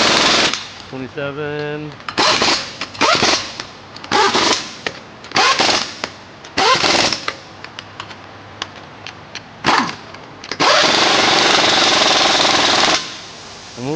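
Impact wrench tightening axle nuts on a 2007 VW Rabbit, loud bursts of rapid hammering repeated several times with short pauses, ending in a long sustained run; a brief spoken word in between.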